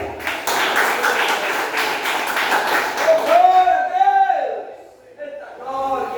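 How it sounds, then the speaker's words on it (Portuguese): A church congregation claps in quick, rhythmic unison for the first few seconds, fairly loud and close, before the clapping fades and a voice speaks alone. "Você pode aplaudir o Senhor?"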